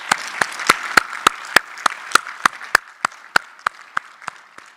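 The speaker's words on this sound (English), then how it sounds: "if we could all give them a round of applause and thanks for all that they do" An audience at a fire department change of command ceremony claps for police, fire and EMS responders, with sharp, evenly spaced claps standing out over a lighter spread of applause.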